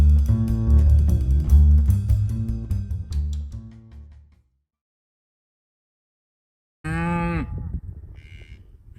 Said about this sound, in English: When you try and film with cows in the background